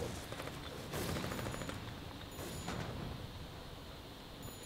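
Tank gunfire from the online war game Foxhole during a large light-tank assault: a dense, continuous barrage of overlapping cannon and machine-gun bursts, with a few louder blasts standing out over steady battle noise.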